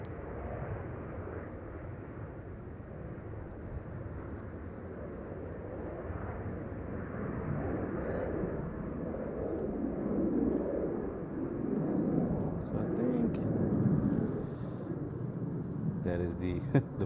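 A Boeing Dreamliner passing at Brussels Airport, a steady low jet roar swelling gradually and peaking toward the end, heard from a distance under someone talking.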